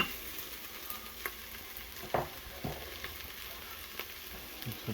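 Garlic and onions fry in an Instant Pot with a steady, quiet sizzle, broken by a few soft stirring taps and clicks, with no one talking.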